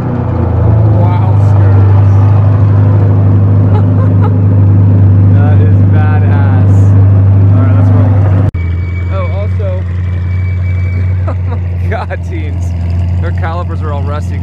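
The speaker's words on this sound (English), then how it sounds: "Let's get a cold start with the Fab Speed exhaust." A C8 Corvette with a Fab Speed exhaust on a cold start, a loud, steady low idle rumble that drops abruptly partway through to a lower, quieter drone, with people talking over it.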